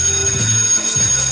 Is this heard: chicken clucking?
no